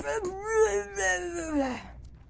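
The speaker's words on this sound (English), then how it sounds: "If you guys hear a cat, by the way, ignore him." A cat meows in a drawn-out, whiny way, two or three stretched cries close by, with no talking over it.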